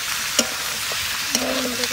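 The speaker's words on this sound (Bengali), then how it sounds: "মাংস দিয়ে দিয়েছি, এবার এটাকে কষাতে হবে" Native village chicken being braised in a wok, under a soft, continuous sizzle. A few sharp clicks and scrapes of a spatula stirring the meat stand out at irregular moments.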